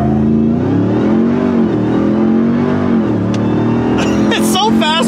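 A RAM TRX pickup truck accelerates hard, its engine droning loud and close with rising and falling pitch from inside the cab, followed by brief clatter and voices near the end.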